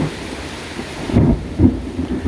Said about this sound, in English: So when it lightens and then snaps thunder right afterwards, you know it's real close.